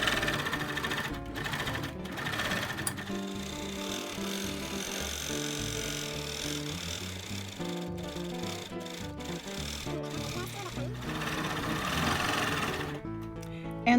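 A longarm quilting machine stitches a sashing design under ProStitcher computer control, producing a continuous close mechanical whir of rapid needle strokes that holds steady throughout.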